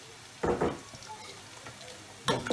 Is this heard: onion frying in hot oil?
yes